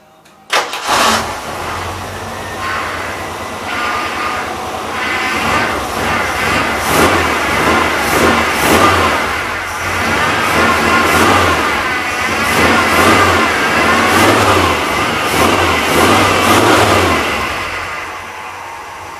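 A car engine cranks and catches right after a repair, then revs up and down repeatedly in loud, close bursts over a steady running idle, with no talking.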